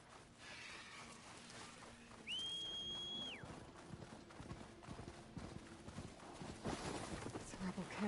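In the video game Horizon Forbidden West, a short whistle call is followed by a horse's hooves clip-clopping as it arrives, in steady rhythmic beats that grow louder over the game's ambient sound.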